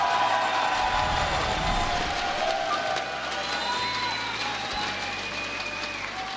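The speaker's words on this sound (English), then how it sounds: "Like how everyone's screaming and cheering." A large crowd cheers and applauds at a StarCraft 2 tournament grand final, a dense, steady wash of clapping and shouting that fills the whole stretch.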